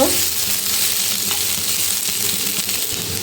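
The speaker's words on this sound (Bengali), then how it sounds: "আদা আর লঙ্কার পেস্ট দিয়ে একটু নাড়াচাড়া করে নিতে হবে।" Ginger and chili paste frying in a little oil, stirred in a pan: a continuous loud sizzle with scraping stir strokes, close and steady, with no talking.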